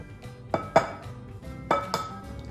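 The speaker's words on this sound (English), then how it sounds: "Now I'm going to crack 4 eggs" Four eggs are cracked into a bowl for a French toast dipping mixture, heard as a few sharp, close taps and knocks on a hard rim spaced across a couple of seconds, with no talking.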